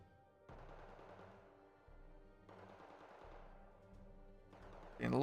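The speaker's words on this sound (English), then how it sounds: "only a machine gun left. Like 50 cal, yeah, I completely forgot it has a 50 cal on top" A .50 cal machine gun mounted on top of an APC fires in Wargame Red Dragon, with two or three separate bursts of rapid rattling shots at a moderate distance and short pauses between them.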